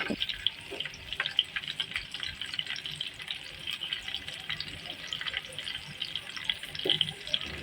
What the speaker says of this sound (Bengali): প্রায় অনেকক্ষণ হয়ে গেছে আমি আমগুলাকে তেলের সাথে ভেজে নিতেছি